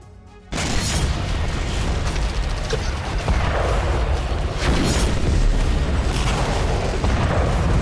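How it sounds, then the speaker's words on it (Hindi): Missile and rocket strike explosions on a US base in western Iraq: dense, continuous booming and crackling blasts, loud and sustained after a sudden onset, with no talk over them. "मिसाइल रॉकेट के जरिए आसमानी प्रहार किया जा रहा है।"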